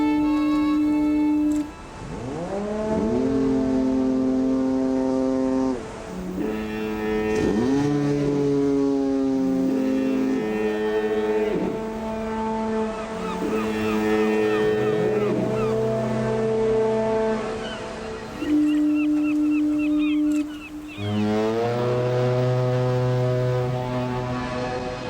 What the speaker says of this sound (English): please welcome, for one final foggy chorus, the recorded massed foghorns of the British Isles